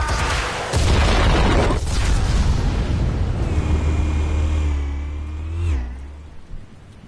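A heavy explosion from Batman: The Telltale Series erupts in a loud deep boom with a low rumbling roar that swells and then fades into a falling whine, with no voices over it.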